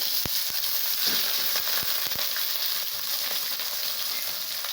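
Potato, onion, green chilli and garlic fry in a pan of mustard oil, a loud continuous sizzle with a few sharp pops and clicks, close and without speech.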